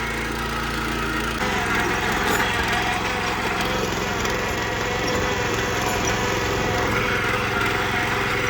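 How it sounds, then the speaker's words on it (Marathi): A tractor engine drones steadily and fairly loudly from start to finish as it turns around, with a constant rattling hum and no talking. "आता मी ट्रॅक्टर परत फिरवते"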